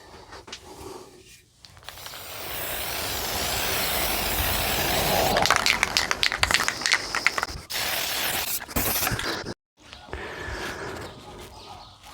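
A spray can lays primer undercoat onto a Jason costume mask, giving a steady, close hiss that swells for several seconds, breaks off, then returns in shorter bursts with brief pauses.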